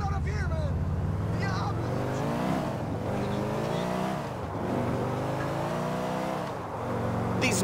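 Car driving in GTA 4, a close engine humming and revving with rising and falling pitch sweeps, steady and fairly loud throughout.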